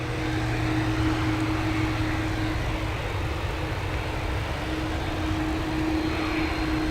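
An Aer Lingus Airbus A330 jet at Dublin Airport runway 10R gives off a steady, distant engine roar with a faint whine, continuous and unbroken.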